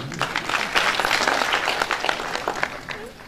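Audience at a mushaira poetry gathering in Patiala clapping in a dense, lively burst that thins toward the end, with some voices underneath.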